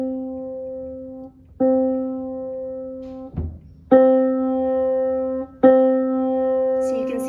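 Soft sustained piano notes played with the hammers moved closer to the strings, three separate tones each held about two seconds with a clear harmonic ring, close and moderately quiet, no talk.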